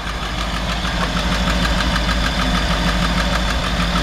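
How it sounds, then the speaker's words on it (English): A 1966 Ford F100 shortbed engine idles steadily up close, with a fast, even lifter tick running over the low rumble for the whole stretch. "you can hear that the engine sounds awesome"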